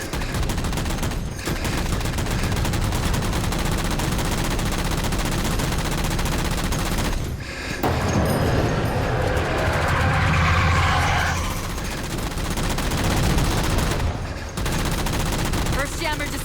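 Gunfire from Halo 4 rattles in sustained bursts through dense game battle noise, with brief gaps between volleys and a voice talking over parts of it.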